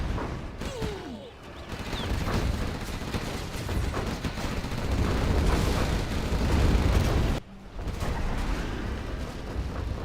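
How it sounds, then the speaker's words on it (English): Artillery barrages in a real-time strategy game, heard as dense, loud rumbling blasts and crackling bursts that continue for most of the stretch, with a brief drop near the end before the explosions resume. "Artillery coming in now from Marakar."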